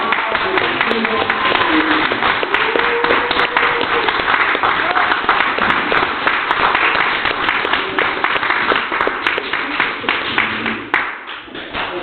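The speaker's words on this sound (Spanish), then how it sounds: "Con un fuerte aplauso, Claudia Colón, educadora popular" A crowd at a community gathering applauds to welcome popular educator Claudia Colón. Dense, loud clapping runs without a break for about eleven seconds, with faint voices underneath, then thins out at the very end.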